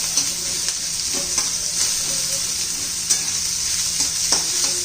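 Two medium onions frying until translucent for rajma masala, a loud, bright, continuous sizzle with occasional stirring scrapes and taps, heard close up without voices.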